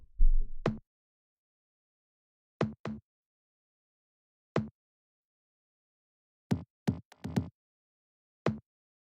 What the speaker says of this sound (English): Then I've got these toms.